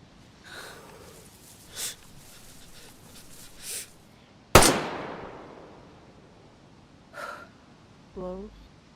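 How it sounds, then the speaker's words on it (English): A single sharp, loud gunshot from a firearm in the survival video game DayZ cracks out mid-clip and rings off in a long fading tail, surrounded by quieter puffs of breath-like noise. "You're gonna shoot loud now"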